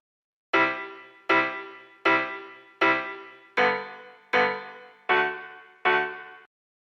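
Synthesized strike pluck in a music production: eight bright, resonant plucks struck at a steady even pace, each ringing out and decaying quickly, loud and alone.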